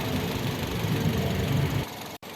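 Engine knocking from a 2012 Toyota Yaris E automatic, a steady mid-pitched idling drone with faint rapid ticking, close and continuous before dropping away near the end.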